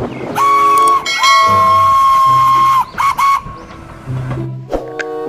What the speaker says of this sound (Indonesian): ada kereta api Thomas warna hijau